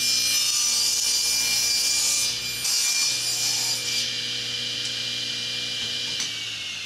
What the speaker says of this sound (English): I'm going to go ahead and miter this real quick, the test piece